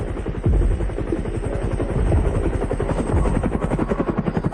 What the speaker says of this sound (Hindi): क्या वो मिलिट्री हेलीकॉप्टर से अस्पताल आ रहा है?